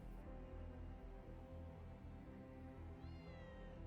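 A black cat meows over a dense, steady musical bed, its cries brief and partly blended in, with a rising tonal call late in the passage.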